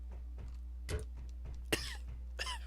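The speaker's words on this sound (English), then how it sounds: "I had a little bit of a cough there" A person gives a few short, quiet coughs and clears their throat over a steady low hum.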